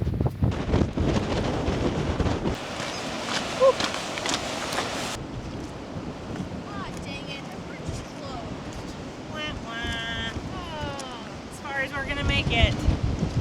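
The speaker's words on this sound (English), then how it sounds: "the wind has been howling all night long and it's blowing" Strong wind gusting around a campervan in New Zealand, rough buffeting roar against the microphone that rises and eases, with people talking intermittently over it.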